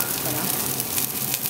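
Foie gras sizzles and fries in a hot pan, a steady crackling hiss with faint bubbling throughout, close and even in level.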